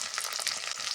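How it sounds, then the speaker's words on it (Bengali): Onions fry in oil with ginger garlic paste and tomato, a brief close crackling sizzle with no talk. "পেঁয়াজ ভাজা হয়ে গেলে দিয়ে দিব আদা রসুন বাটা,"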